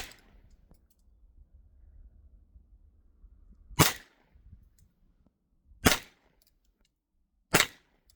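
Three sharp, loud shots from a Ruger Mark IV 22/45 .22 pistol striking a wooden target outdoors, well spaced with quiet gaps between them, each a crisp crack with a short tail.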